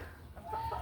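Chickens clucking in a small poultry yard, a few soft, close clucks and murmurs rising toward the end of a short stretch with a low background rumble.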